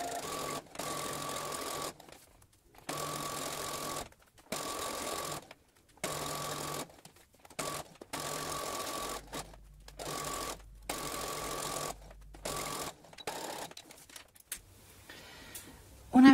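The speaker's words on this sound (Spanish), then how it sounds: "vamos a tratar de mantenerla abierta como está y que podamos coserla y mantenerla abierta" A sewing machine stitches a seam on a multipurpose fabric bag in repeated short runs with brief pauses between them, steady and fairly close, with faint handling noises near the end.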